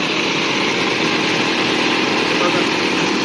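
An electric motor in a motor-and-dynamo free-energy experiment runs at high speed, around 23,000–24,000 RPM, producing a loud, steady, close whirring hum that holds evenly for the full few seconds.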